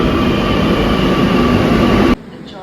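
A Kochi metro train rumbles loudly and steadily alongside a station platform, a close, dense roar that cuts off abruptly near the end, leaving only quiet ambience.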